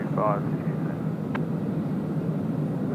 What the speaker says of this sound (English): that Emirates 380 is right overhead right now